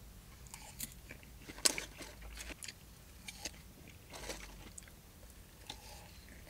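A fast-food salad from Burger King or McDonald's, eaten with its sauce, is bitten and chewed up close: irregular crisp crunches with one sharp bite early on, over a quiet background.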